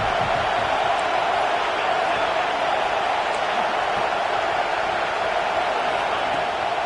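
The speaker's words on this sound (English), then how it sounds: "how nice is it to have the home crowd going absolutely bananas" A home crowd roars for Miami at a Miami vs Florida football game. The noise is a dense, steady wash of cheering that stays loud and unbroken throughout.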